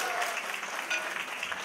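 An audience at a hotel and convention bureau luncheon applauds steadily, a bright dense patter of many hands filling the room for a short burst with no talk over it.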